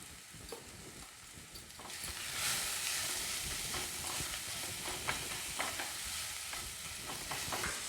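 Spices for prawn kaliya are stirred in a hot pan: a steady sizzle runs throughout with repeated scraping and clinking of the spoon against the pan, close and without talk.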